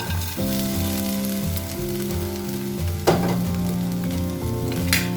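Grated coconut and green gram fry in a pan for sukhiyan while being stirred, making a steady sizzle with sharp stirring scrapes near the middle and end over a constant tonal background.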